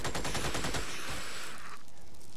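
Machine gun fire in the strategy game Xenonauts rattles in a rapid burst of loud shots for under a second, then trails off into an echoing decay, with no talking.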